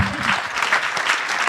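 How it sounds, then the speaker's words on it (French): Audience applause at a live event in a hall, a steady dense wash of many hands clapping throughout, fairly loud and continuous with no pauses. "Applaudissez-le"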